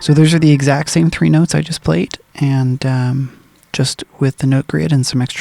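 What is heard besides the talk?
No distinct noise like a dog, phone or traffic.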